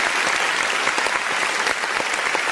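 A burst of applause sound effect, a dense, steady clatter of many hands clapping close up with no voices.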